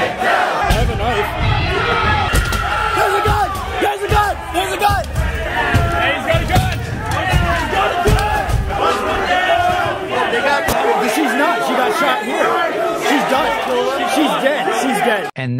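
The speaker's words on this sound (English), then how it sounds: "you hear the crowd smashing the building's windows and the police shooting a right-wing rioter" A rioting crowd at the U.S. Capitol during the January 6 assault, a loud, dense mass of shouting and chanting voices with sharp knocks and bangs scattered through, continuous and close throughout.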